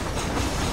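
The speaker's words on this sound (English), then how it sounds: "This train headed for Mexico?" A train runs in the video game Red Dead Redemption: Undead Nightmare, a brief, steady, heavy rumble with rhythmic rail clatter, loud and close.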